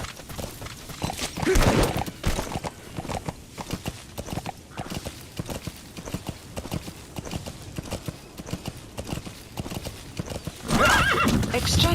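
Horse hooves clip-clopping at a steady gallop in Metal Gear Solid V, loud and continuous in the game's wilderness, with a neigh or whinny and surges of louder movement near the start and end.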